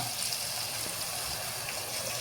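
Water pours into a pressure cooker over curry with sautéed tomato, a steady, fairly faint gush lasting about two seconds with no talk.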